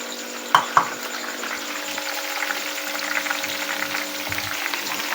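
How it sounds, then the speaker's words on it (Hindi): Okra (bhindi) fries in a pan at home with a steady, close crackling sizzle, broken early by two sharp utensil taps against the pan. "तब तक भिंडी फ्राई हो जाएगी।"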